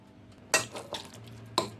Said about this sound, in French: Mélange bien la viande avec la sauce.